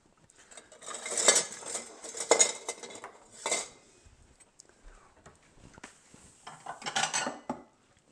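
Cutlery and dishes clink as a bowl is fetched in a home kitchen for a serving of one-pot stroganoff, a few close, sharp clatters and rattles spread out with quiet gaps between them.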